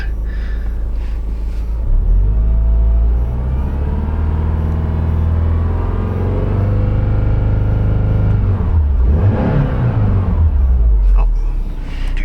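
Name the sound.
Subaru engine running as it warms up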